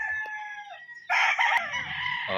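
A young gamecock stag, about six or seven months old, crows close by in a short, strained call that breaks into a louder, harsher burst, with faint clucks underneath.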